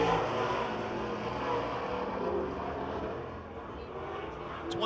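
A World of Outlaws sprint car on a time-trial lap at Pennsylvania Motor Speedway near Pittsburgh, its engine a steady, fairly distant roar that holds constant across the whole stretch with no talk over it.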